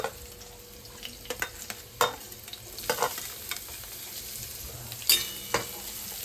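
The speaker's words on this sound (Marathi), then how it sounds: "कांद्याला थोडं लालसर होईपर्यंत भाजून घेऊयात आपण." Chopped onion with green chillies frying in oil in a pan, a steady soft sizzle under scattered spatula scrapes and stirring knocks, close and fairly quiet.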